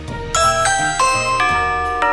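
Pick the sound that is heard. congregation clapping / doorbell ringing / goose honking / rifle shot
doorbell ringing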